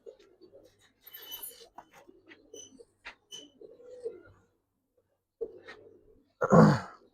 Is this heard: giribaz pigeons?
yes